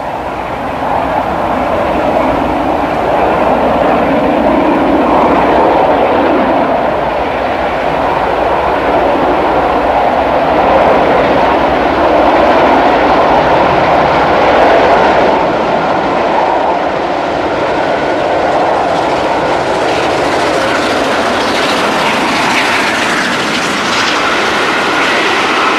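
An LNER A2 steam locomotive on a record-breaking run, heard as a steady, loud train rumble with rhythmic wheel clatter sustained throughout, no voices present.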